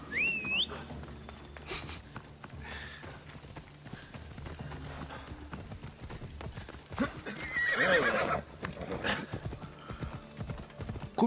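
Horse hooves clip-clop steadily through a stretch of Assassin's Creed Odyssey gameplay, with a loud neigh and whinny near the end over busy game ambience and faint music.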